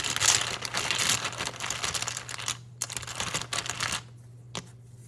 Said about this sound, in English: I'm going to lay out all the tarot tiles on the side, as is my way